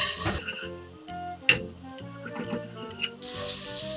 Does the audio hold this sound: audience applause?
no